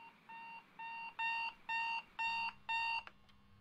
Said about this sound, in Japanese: あの音？ アラーム？